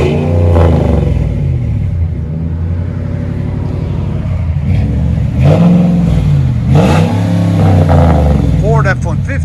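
A Ford F-150 with a 5.4L Triton V8 and Flowmaster dual exhaust with turn-downs revs loudly and close, with several throttle blips swelling over a steady deep idle rumble.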